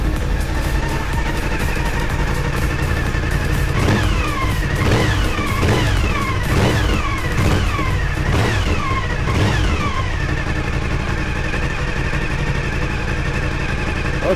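A rebuilt Suzuki SV1000S V-twin motorcycle engine holds a steady low idle around 1400 rpm in a workshop, loud and continuous throughout, with a few faint rising and falling whines over the running engine.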